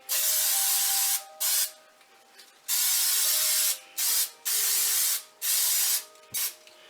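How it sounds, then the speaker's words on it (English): A can of Pam non-stick flour oil spray coats a bundt pan in a series of loud, close hissing bursts of varied length separated by short pauses, ending with a brief clack. "It's like a non-stick flour oil spray. And I'm going to spray my pan liberally."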